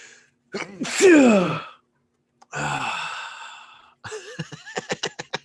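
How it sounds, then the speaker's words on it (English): A loud sneeze bursts out after a sharp inhale, followed by a long breathy exhale and a few short huffs and clicks. "I feel like I have to sneeze."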